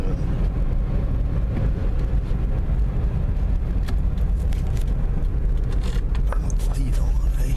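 Interior road noise of a Toyota Echo being driven, a dense low rumble of engine and tires steady throughout with some wind buffeting and rattles.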